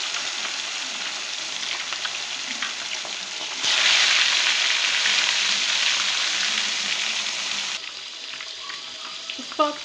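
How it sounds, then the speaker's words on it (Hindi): Fish pieces frying in hot oil for a masala fish fry, a steady dense sizzle that swells louder midway and then eases back, with no one speaking. "दूसरी फ़िश भी हम इसी तरह से सारे पीसेस को फ्राई"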